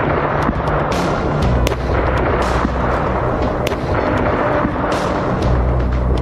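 Russian missile strikes in Ukraine produce a loud series of booms and sharp cracks. They arrive irregularly over a deep, continuous rumble, with heavier low thuds near the start and end.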